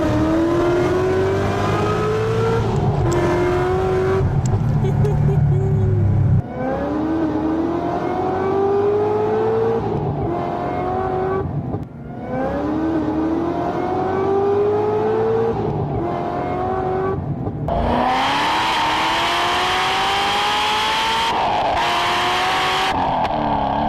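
An 800 HP Corvette ZR1 with a stock clutch accelerates hard, its engine note climbing in repeated rising sweeps broken by sharp gear shifts. Loud and close, with no talking.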